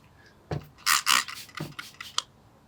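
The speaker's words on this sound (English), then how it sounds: "ball up your microfiber towel, and then in a circular motion, rub it" A microfiber towel soaked in mild solvent rubs over a headlamp mount tag, making a few short close scrubbing and swishing bursts in quick succession with no talk.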